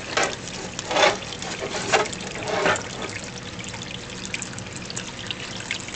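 Water dribbles and splashes off a wet aquarium filter bio wheel held close, with a few brief louder bursts of trickling in the first seconds before it settles into a faint, steady drip and wash.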